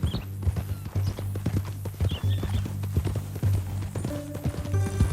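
Horse hooves clip-clop on the ground in Red Dead Redemption 2, a steady close rhythm of sharp hoof strikes running throughout, with a low hum beneath and a brief tonal game sound near the end.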